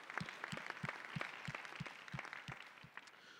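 Workshop audience giving a round of applause for volunteer graduate students at a breakout session, heard as a fairly quiet, spaced train of distinct claps with a few soft thuds under the broadband patter, fading toward the end.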